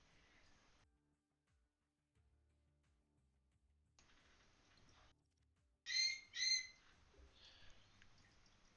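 After quiet stretches, a bird gives two sharp, loud squawking calls close by, followed by a fainter trailing call.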